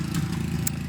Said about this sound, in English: I knew he'd start mowing again